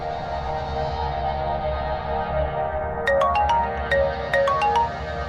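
A phone ringtone plays over a low, steady music bed, its short bright electronic melody repeating several times in the second half while the call goes unanswered.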